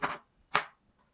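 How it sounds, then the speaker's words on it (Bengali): A knife chops an onion finely on a board: two crisp, close chops about half a second apart, each followed by silence. "পেঁয়াজটা আমি কুচি কুচি করে নিই"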